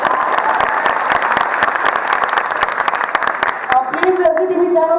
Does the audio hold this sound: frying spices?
no